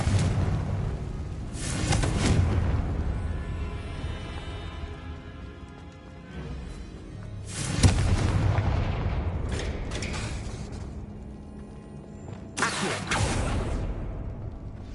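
The Confringo explosion spell in the video game Hogwarts Legacy, cast several times as whooshing bursts followed by booming blasts, with rumbling game ambience in between and no talk.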